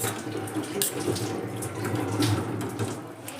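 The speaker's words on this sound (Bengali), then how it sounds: "এবার আমি এর মধ্যে দিয়ে দিচ্ছি একটা বড় বাটির 1 বাটি জল।" Water pours steadily into a large bowl holding raw chicken liver and gizzard, a continuous, fairly close splashing flow with slight surges in loudness and no talking.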